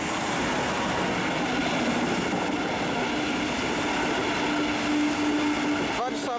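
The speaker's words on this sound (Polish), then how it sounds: "Pociąg osobowy Kolei Mazowieckich," A Koleje Mazowieckie double-deck passenger train, the Łukowianka, rumbles past close by at Warszawa Główna with a loud continuous roar and steady wheel noise, and a brief squeal near the end; someone speaks over it.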